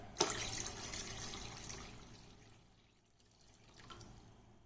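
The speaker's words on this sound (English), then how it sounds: "then we will add it to the cooker." Water is poured into a pressure cooker on the stove for making onion fryums, starting with a sharp splash, then a steady run of liquid that gradually tapers off, followed by a faint trickle.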